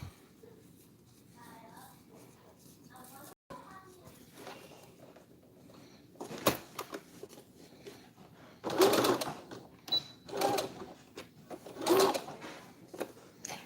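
Sewing machine stitching a folded fabric face mask, with short bursts of rapid mechanical whirring that start and stop several times in the second half, close and fairly loud, after quieter handling sounds; a person talks earlier.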